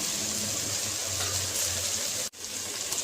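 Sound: water poured from mixer jar into masala

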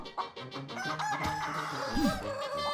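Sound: chicken clucking in the video game ALTF4

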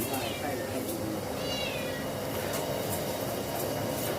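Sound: cat meowing

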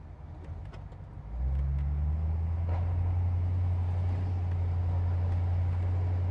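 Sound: 1950s car engine running

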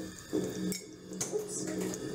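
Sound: rinsing makeup brushes under running water

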